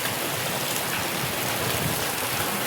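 Heavy monsoon rain pours down in a steady, dense roar with no breaks or distinct rumbles, loud and close as it drums on everything nearby.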